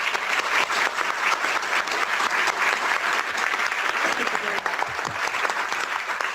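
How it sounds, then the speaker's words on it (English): Dense, steady applause from a conference audience honoring the panelists at the close of a policy session on TSCA chemical-law reform, loud and sustained throughout with no break. "please give a big round of applause for our panelists"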